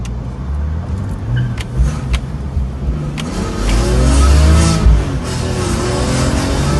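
A high-mileage BMW E46 M3 with SMG gearbox and freshly rebuilt VANOS drives off, its engine revving up and climbing in pitch after some clicks and knocks, loud and close, with no talk.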